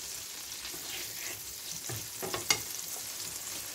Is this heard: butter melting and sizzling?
yes